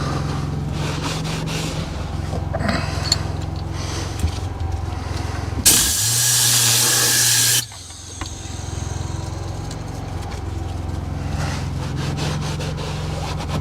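A Kranzle Tornador Z020 air cleaning gun sprays interior cleaner inside a Land Rover Discovery, a loud steady compressed-air hiss lasting about two seconds before cutting off sharply, set against a quieter background hum.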